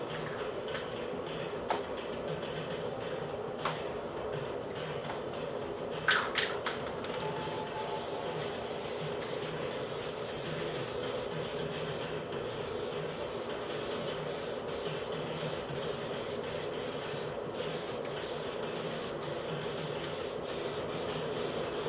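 An aerosol can sprays base coat onto a Camaro air box in a steady continuous hiss, with brief pauses and faint clicks, fairly quiet and close, with no talking.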